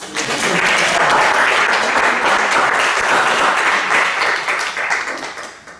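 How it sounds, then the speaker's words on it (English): Audience applause at the close of a workshop: a dense, sustained clapping from a room full of people, loud and steady for several seconds before tapering off. "Maybe a round of applause."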